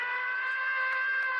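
Steady, sustained siren tone holding one pitch with rich overtones, loud and continuous with no other sounds under it.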